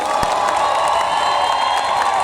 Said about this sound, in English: Un tonnerre d'applaudissements pour Teri Hatcher, s'il vous plaît.